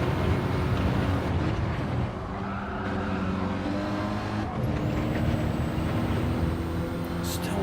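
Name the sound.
Renault Clio Cup race car onboard approaching a corner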